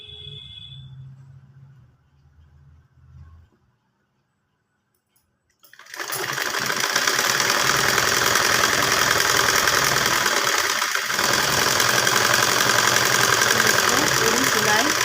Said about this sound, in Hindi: पूरी सिलाई लगा लिए हैं।